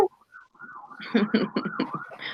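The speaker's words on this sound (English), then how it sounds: "I hear the sirens too." A wavering siren rises and falls at moderate distance, with bursts of other noise pulsing over it and a brief voice near the start.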